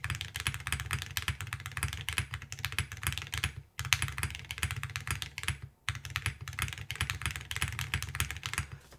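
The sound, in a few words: typing on a mechanical keyboard with metal keycaps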